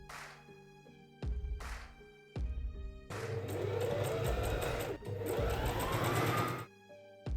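A sewing machine stitches leather trench coat parts in loud bursts of rapid, even needle clatter, stopping and starting several times with brief pauses between runs.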